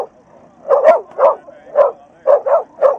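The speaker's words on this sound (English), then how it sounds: "Dogs!" Dogs bark in a loud, close series of about seven sharp woofs, some in quick pairs, with short quiet gaps between them and no talking.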